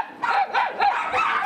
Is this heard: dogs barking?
yes